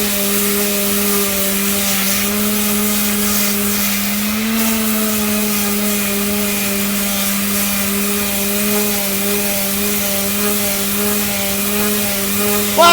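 An electric sander grinding on steel railroad tie plates, a loud continuous motor whine with a steady pitch that barely shifts, close and alone throughout.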